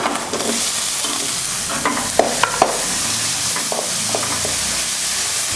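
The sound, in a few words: shallots sautéing in a pan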